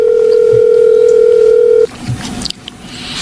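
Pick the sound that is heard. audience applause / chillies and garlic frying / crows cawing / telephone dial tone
telephone dial tone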